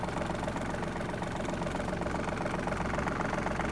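A Yanmar RS-24 mini tractor's diesel engine runs steadily close by with the PTO engaged, a loud continuous rhythmic thrum with no voices.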